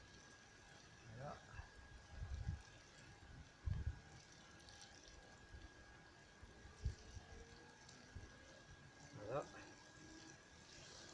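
A sown bed of Colmar carrots gets a generous watering in a mid-June garden, a steady soft hiss of water running throughout beneath a voice, with a few louder splashes.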